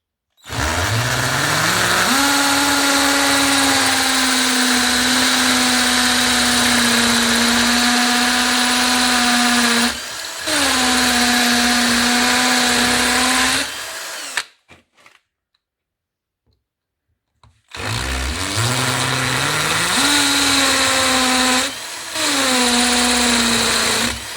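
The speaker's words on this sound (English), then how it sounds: "Next, we'll drill the wall with a 6mm masonry bit." A power drill with a 6mm masonry bit drilling into a wall whines loudly in long sustained bursts, pausing briefly twice and stopping for a few seconds before drilling resumes.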